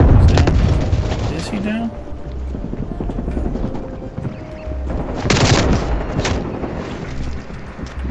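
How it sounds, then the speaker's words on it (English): Gunfire in the Call of Duty Black Ops Cold War video game, bursts of shots and booms over a low rumble, with a player talking over the action. "I'm hearing gunshots real close"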